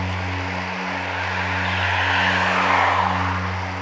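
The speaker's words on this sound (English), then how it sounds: "traffic noise and wind noise in my ears." Steady roar of traffic and rushing wind noise heard while cycling on a road tour in Victoria, a constant loud broadband rumble with a low hum throughout and no speech.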